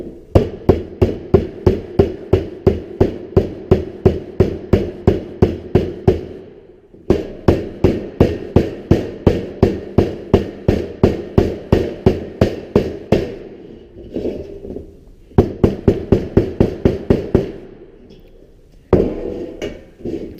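Rapid, evenly spaced hammer blows ring on the edge of a sheet-metal 45-degree elbow. Loud metallic strikes come in long runs, broken by brief pauses and short stretches of softer sound.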